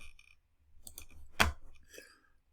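A few distinct mouse clicks at a computer while snipping a graph on screen, close, sharp and isolated, with one louder click in the middle.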